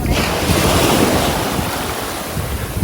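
Sea waves wash onto a Sri Lankan beach in a loud, continuous surge, with gusts of wind buffeting the microphone throughout.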